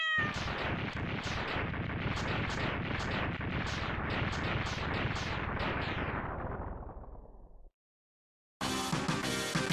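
A rapid string of booming explosions from the Mega Man X3 video game plays loudly and continuously for several seconds, fades out into a short silence, then game music and effects resume abruptly.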